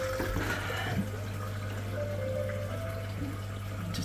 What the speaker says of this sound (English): there's the siphon. Just break, and it's pouring in.